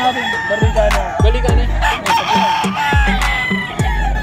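Chickens and roosters at a pre-dawn pet market in Bocaue, Bulacan, with repeated loud, close rooster crows and clucks overlapping one another in quick succession against a busy crowd background.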